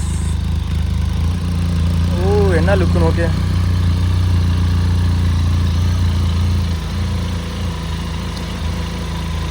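A motorcycle engine, taken out again after eight months off the road, runs steadily at a low idle close by, a constant throbbing drone with a person talking briefly over it.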